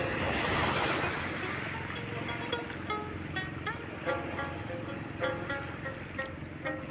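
Steady roar of ocean surf washing onto the shore, with wind noise over the microphone and faint chirps in the background.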